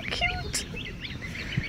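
Adult geese call near goslings, a few short honking and squeaky calls scattered over a noisy background, with a person talking softly nearby.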